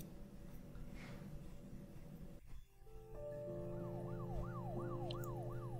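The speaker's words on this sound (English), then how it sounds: "Alright, some sirens." Electronic sirens in the PC game Her Story wail in rising and falling sweeps over a steady engine-like hum, continuing without pause and fairly loud, with no voices.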